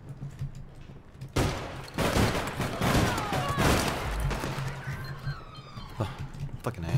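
Gunfire from the online shooter APB: Reloaded, a loud dense burst of rapid shots beginning after a quiet opening and rattling on for several seconds, with players talking over the action.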